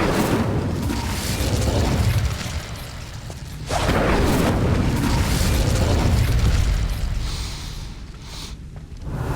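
Fire spell cast in the Hogwarts Legacy video game, heard as a loud, sustained roaring whoosh that eases off briefly and then surges again, with no voices over it.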